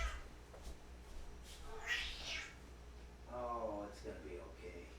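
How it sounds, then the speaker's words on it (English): A 19-year-old cat with dementia lets out a couple of drawn-out, wavering meows, faint and close, with soft speech around them. "He's a very old cat."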